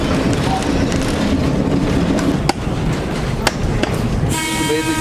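A small passenger train on a backyard ride line runs steadily along its rails, a continuous close rumble with a few sharp clanks, ending in a brief higher whistle-like tone.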